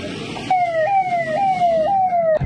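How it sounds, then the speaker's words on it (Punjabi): A loud electronic siren wails in repeating falling sweeps, close by, for about two seconds before cutting off. "ਐਂਬੂਲੈਂਸ ਵਿੱਚ ਬੈਠੇ ਮੈਂ ਤੇ ਡਰਾਈਵਰ ਵੀਰ ਅਮਨ"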